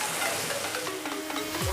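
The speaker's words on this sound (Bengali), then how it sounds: "একসাথে আলুটাও সেদ্ধ হয়ে যাবে এবং পেঁয়াজটাও ভাজা হয়ে যাবে" Onions and potatoes fry together in a pan, giving a steady, close sizzle with light stirring scrapes for a couple of seconds and no voices.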